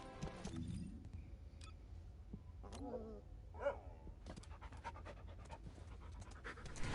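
A companion dog in The First Descendant video game pants steadily throughout, a soft rhythmic breathing sound sitting under quiet game ambience with a few brief tonal effects.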